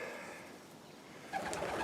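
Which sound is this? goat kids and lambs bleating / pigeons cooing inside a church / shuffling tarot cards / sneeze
pigeons cooing inside a church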